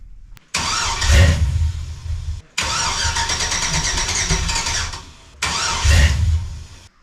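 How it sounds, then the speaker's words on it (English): A 1981 Chevrolet C10 truck engine cranks in three loud bursts separated by short pauses, the starter churning without the engine catching, close and alone. "Obviously we're having issues with it starting."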